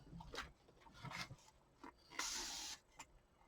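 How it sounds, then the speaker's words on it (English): A few short pumps of a spray bottle spraying alcohol, with one longer hissing burst in the middle, amid soft handling noises nearby. "I think I'll spray it with alcohol this time."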